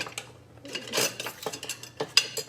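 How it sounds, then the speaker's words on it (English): A small whisk beats milk in a bowl for trash can nachos, giving irregular close metallic clinks and scrapes against the bowl with brief pauses, moderately loud and without talk. "I should probably be using a spatula, or not a spatula, a whisk."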